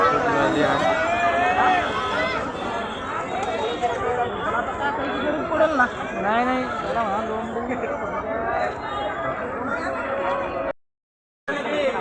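A dense evening crowd murmurs and chatters through a busy market near the Tulshibaug temple in Pune, a close, continuous babble of many voices with one person speaking nearby before a sudden cut to silence.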